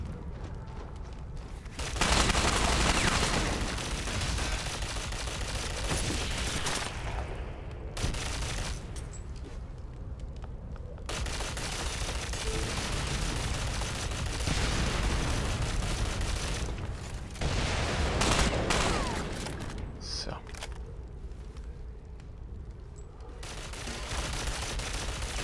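Dense, sustained gunfire in the Ghost Recon Online shooter game, long stretches of rapid automatic bursts and booming shots, loud and nearly continuous with brief lulls between volleys.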